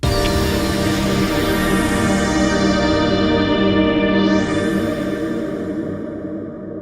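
A synthesized sound recorded with its reverb tail in Ableton Live: a dense, sustained tonal wash with sweeping, swirling overtones that slowly fades away toward the end, with no voices.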